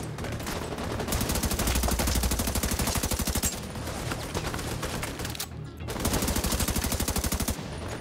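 Rapid machine gun fire in the video game The Division 2, with long bursts of fast, evenly spaced shots that break off briefly and then resume, loud and close.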